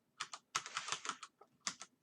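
Keys pressed on a computer keyboard while playing Magicland Dizzy on a Commodore 64, close, crisp clicks in quick bursts of several presses with short pauses between, no talk.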